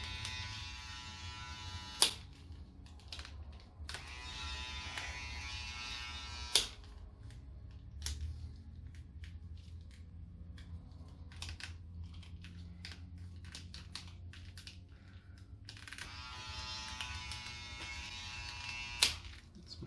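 A Wahl electric hair trimmer runs with a steady buzzing hum after its battery is replaced, punctuated by a few sharp clicks and handling knocks, with no talking.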